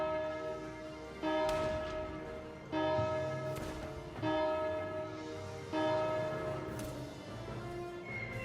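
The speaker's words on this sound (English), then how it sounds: "Ring the bell, Kai." A bell rings repeatedly in the Valkyria Chronicles 4 video game, about five resonant metallic strikes at a steady pace, each ringing out with a long decay, heard fairly faintly and with no talk over it.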